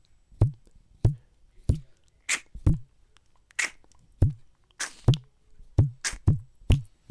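A single string held in the hands and plucked by hand, not mounted on any wooden body, giving about a dozen sharp, dry, close twangs in an uneven rhythm, each decaying quickly into near silence.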